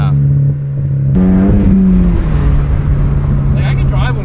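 Ford Focus ST with a Tomei exhaust gives a short rising rev over a steady droning idle, heard close and loud while people talk over it.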